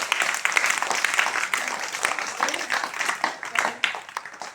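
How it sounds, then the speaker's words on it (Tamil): Schoolchildren at a primary school clap for a classmate, a lively burst of uneven, close handclaps with audible individual claps that rise and fall over a few seconds. "இப்போ கைதட்டு பார்ப்போம்."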